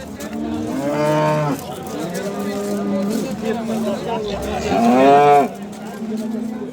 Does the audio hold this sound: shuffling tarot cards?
no